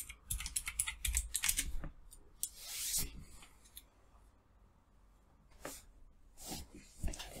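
Someone types a password on a computer keyboard while setting up a server: quick bursts of close, crisp key clicks, then a pause, then a few more scattered taps near the end.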